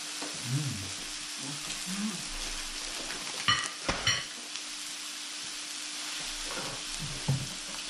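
Beef sizzles steadily on a hot Thai tabletop grill, with a few clattering utensil clicks and soft scraping partway through.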